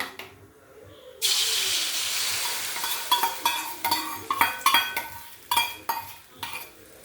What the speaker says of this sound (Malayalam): മുട്ട ഒഴിക്കുകയാണ് കേട്ടോ.